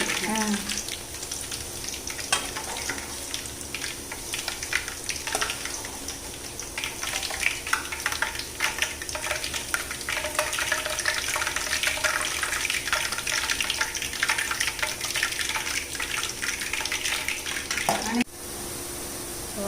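Boondi batter drips through an old-fashioned slotted ladle into hot oil, producing a steady, dense sizzle and crackle that runs throughout at close range, during the first attempt at a 100 kg batch.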